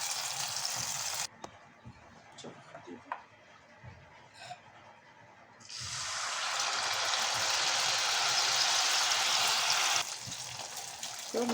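Malpua batter made with khova frying in hot oil in a pan, a steady broadband sizzle that drops away briefly, then swells loud and dense for several seconds before easing, with no one talking.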